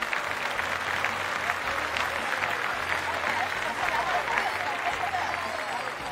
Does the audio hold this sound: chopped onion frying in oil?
no